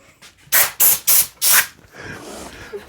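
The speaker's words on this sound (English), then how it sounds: "Hit that with the air hose too. It'll blow off some stuff." A compressed air hose blasts debris off a double-neck 12-string guitar body during fret and headstock routing work, in four loud hissing bursts, then a quieter fading hiss, with no talk.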